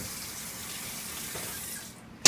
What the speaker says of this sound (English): Take out the stem, run water through it first.